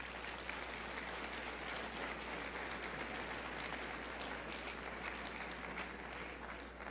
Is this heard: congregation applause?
yes